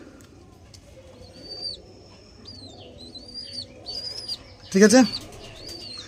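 Pigeons coo and chirp softly in a loft kept for tournament flying, with a brief flurry of wing flaps near the end and someone speaking briefly nearby.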